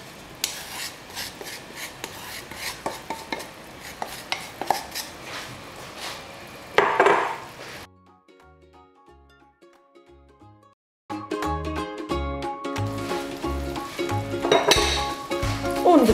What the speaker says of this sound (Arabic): كنبقاو نحركوهم بحال هكا فوق العافيه واحد الشويه